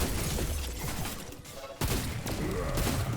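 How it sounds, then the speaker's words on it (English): Sharp bursts and a sudden blast from an enemy sniper's flashbang in the video game Wayfinder, amid rapid gunfire-like crackles with a loud hit near the middle. "Is that your flashbang?"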